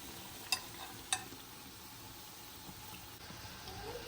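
A soft, continuous sizzle of cheese-filled dough frying in hot oil, with two faint clicks early on and no talking.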